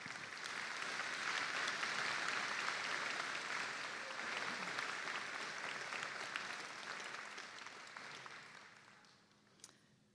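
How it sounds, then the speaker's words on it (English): A university convocation crowd for the arts and education faculties breaks into broad, sustained applause that holds steady, then thins and fades toward the end as the clapping dies away. "Now you can clap."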